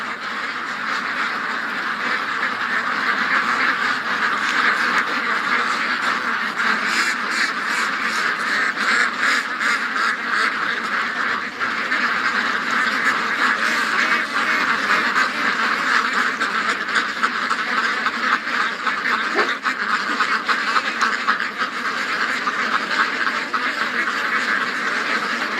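Ducks quacking in a swamp, a dense, continuous chorus of many birds calling close and loud, with goose-like honks mixed in and no break across the whole stretch.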